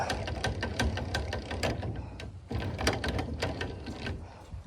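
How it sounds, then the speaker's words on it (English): On The Fly jack plate being worked up and down, its inner and outer metal tubes sliding against each other: a close, irregular run of sharp clicks and knocking rattles with short pauses, no voices. "The noise you hear is just the inner and outer tube going in like that"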